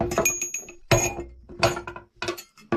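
A small bell on a shoreline fishing rod, rigged for giant ulua on Hawaii's Big Island, gives a few quick bright metallic rings in separate short clusters, close and fairly clear.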